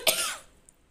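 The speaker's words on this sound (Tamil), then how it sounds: "சாரி கைஸ், இருமல் வருது." A woman gives a single sharp cough up close, its burst fading over a fraction of a second into quiet.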